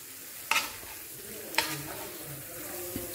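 Fried okra being stirred into masala in a pan for bhindi masala, with two sharp scraping clatters of a spoon against the pan and a faint sizzle underneath.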